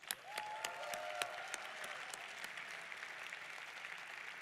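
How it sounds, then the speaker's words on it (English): Audience applause for sponsors at an awards ceremony, steady dense clapping from a large crowd with a few sharper nearby claps near the start, fading slightly toward the end. "give a big round of applause for all of our sponsors"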